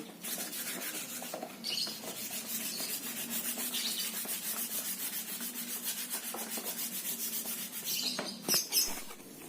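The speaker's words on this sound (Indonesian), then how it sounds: "Nah, amplas dulu." Continuous rapid back-and-forth scratching of 240-grit sandpaper rubbed by hand over a patched motorcycle body panel, close and steady, with a few brief pauses near the end.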